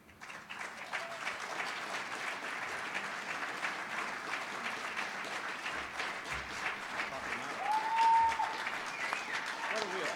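An audience at an awards evening applauds the honorees with sustained, even clapping that swells slightly toward the end, while a voice speaks over it.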